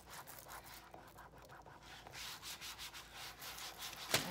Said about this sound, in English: We want the white vinyl to stick to our canvas. So don't be afraid to give him a good rub.